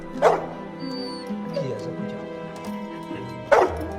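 A dog in an animated animal story gives two sharp yipping barks, one at the start and one near the end, with soft whimpers and background music between.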